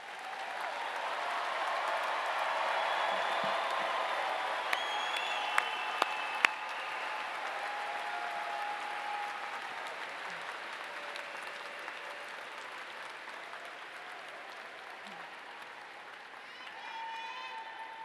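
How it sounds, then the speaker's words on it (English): A crowd at a 2022 summer commencement applauds master's graduates, a broad continuous wash of clapping that slowly tapers, with faint tones and voices mixed in. "And one more round of applause for all of our master's graduates."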